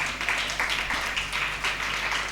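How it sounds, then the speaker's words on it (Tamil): A church congregation in Madurai applauds teacher Carol, a steady wash of many hands clapping at moderate volume, with no one speaking over it. "டீச்சர் கேரல் அவர்களுக்கு நல்ல பலத்த கரகோஷம் எழுப்புங்கள்."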